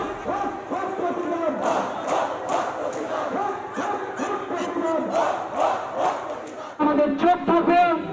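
A torchlight protest march of doctors and townspeople through a city street, the crowd chanting slogans in loud rhythmic unison, with a louder, closer burst of shouting near the end.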